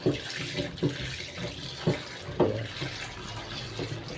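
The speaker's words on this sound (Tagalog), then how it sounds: "Hugasan muna natin mga kaidol ang balatong." Running tap water splashes over string beans (balatong) being washed in a kitchen sink, a steady close stream with soft knocks and handling thumps throughout.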